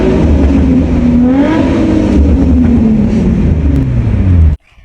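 A Nissan 350Z engine revs loudly inside a tunnel, a close, booming, echoing roar whose pitch rises and falls with throttle blips before cutting off sharply.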